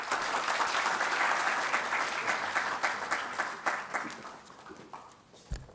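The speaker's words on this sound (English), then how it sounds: "Another round of applause for Professor Verkooyen, ladies and gentlemen" Conference audience applauding a professor after a talk on Norway, Kenya and peace and security, dense clapping that swells loud then thins into scattered claps before fading out.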